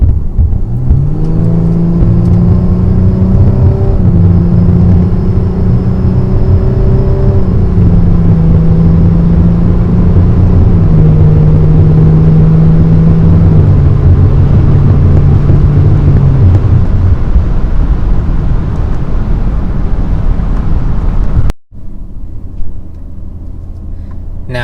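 An Audi Q7 TDI with a Malone Tune Stage II accelerating hard from a 30 mph rolling start on flat ground, a loud rising engine drone climbing in pitch through several gear changes under heavy cabin road noise, then cutting off abruptly.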